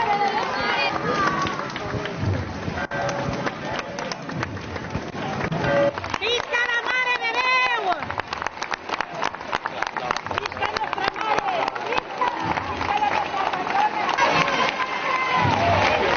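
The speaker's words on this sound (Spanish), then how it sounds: "Aplausos." Crowds lining packed Valencia streets applaud during the 2018 religious procession of the Virgen de los Desamparados, led by the archbishop. Continuous dense clapping and cheering run throughout, mixed with bustle and voices.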